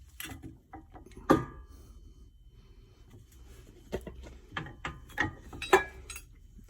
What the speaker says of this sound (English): I'm going to use a screwdriver just to open that up a little bit.